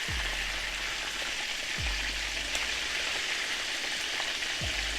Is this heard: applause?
no